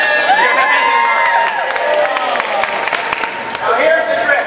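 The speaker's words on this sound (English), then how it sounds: "Thank you for the round of applause" A crowd at a science-themed stage act claps and cheers loudly, with whoops and children's excited shouts rising over steady applause that continues throughout.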